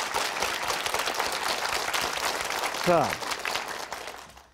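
Audience applause at a health lecture on obesity and genes, sustained clapping throughout that fades at the end, with a brief spoken word and a short voice heard over it.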